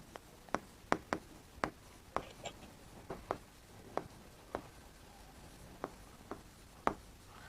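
A heading is written during a lesson, likely chalk or marker on a board, heard as a series of sharp, distinct taps and strokes spaced irregularly, quiet and close with no talk.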